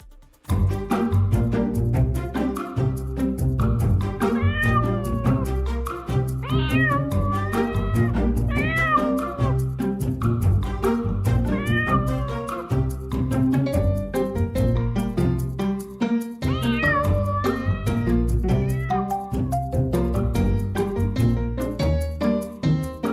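A kitten stuck high in a tree at night in Al Qusais, Dubai, meows loudly and insistently, one plaintive cry after another in close succession, near and clear with no talk over it.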